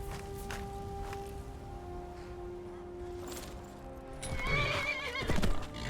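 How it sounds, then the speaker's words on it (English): A horse in Skyrim whinnies and trots with clip-clop hoofbeats, close and fairly loud, the neigh rising toward the end over a steady game background. "Ride, Pinky! Ride!"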